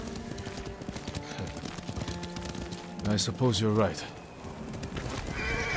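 Horse in Ghost of Tsushima whinnying loudly once amid a steady clip-clop of hooves while riding, with characters talking over the scene and game music underneath.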